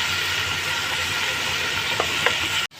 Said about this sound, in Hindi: लहसुन अदरक खूब अच्छी तरह फ्राई हो गया है